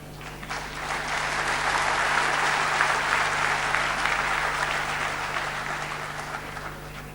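An audience at a 2005 evening of music breaks into loud, sustained applause that swells and then slowly fades, with no talk over it.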